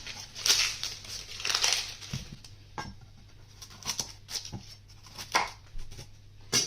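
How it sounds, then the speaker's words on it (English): A few sharp knife cuts land on a cutting board in an irregular rhythm, close up, as onion roots are chopped off, with soft crinkling of onion skin in between. "I start by chopping off the roots on both sides."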